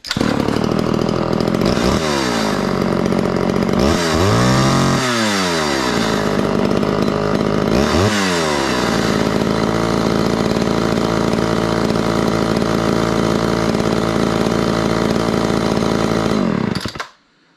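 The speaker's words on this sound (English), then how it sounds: "Now, when it's warmed up, don't choke it again. Just turn it on and pull it." A Homelite Super XL chainsaw, warmed up and restarted without choke, runs loud and close, with several revving surges early on before settling into a steady idle, then cutting off abruptly at the end.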